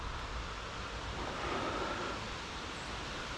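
Wind blows steadily across the microphone on a blustery day at a tree-cutting site, a broad continuous rushing roar with no distinct events and no talk.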